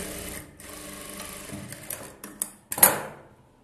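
Sewing machine stitching a blouse, running in a steady whir that stops and restarts, with a few sharper clunks near the end.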